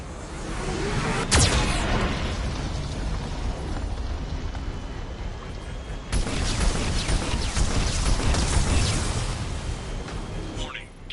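A Geth cannon in Mass Effect Legendary Edition on PlayStation 5 lets off three heavy blasts, spaced several seconds apart, over a constant loud rumble of battle and a talking voice.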